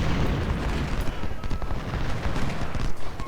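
Dense battlefield din of massed rifle volleys and artillery booms in the Civil War strategy game Ultimate General: Civil War at Fredericksburg, a continuous rumbling crackle of distant gunfire with no clear individual shots standing out.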